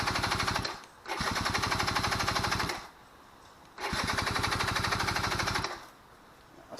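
An Eton Viper 90R two-stroke engine, cold, fires and runs in two loud rapid buzzing bursts, each cutting out into near silence before the next, close to the listener.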